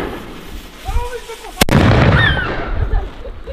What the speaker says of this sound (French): on va tirer un coup avec ce trait à poudre, donc c'est un peu l'ancêtre du fusil